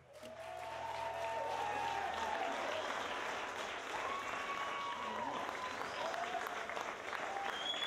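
Audience at a televised northern Quebec variety show applauding a singer as he comes on stage, a sustained, full round of clapping with faint voices and stage sounds mixed in.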